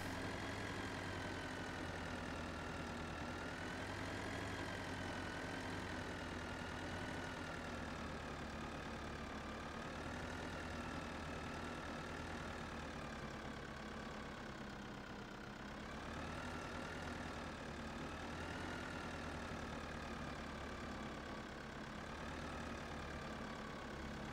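Simulated engine of an MR E37 tractor in Farming Simulator 2013, a steady droning hum with a constant idling tone that holds unchanged throughout, loud and alone with no talking over it.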